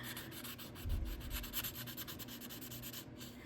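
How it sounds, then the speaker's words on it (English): Fine-grit sandpaper rubs back and forth along the edges of a cast plaster floral piece, quick rhythmic scratchy strokes, close and quiet, with no talking. "take that finer grit and start sanding around the edges"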